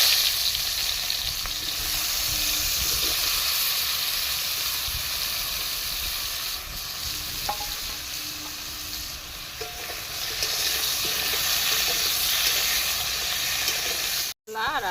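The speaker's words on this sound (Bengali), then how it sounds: "কলা আর আলুটা একসঙ্গেই ভেজে নিচ্ছি" Green banana and potato fry together in oil, making a loud, continuous sizzling hiss that stays steady throughout and cuts briefly near the end.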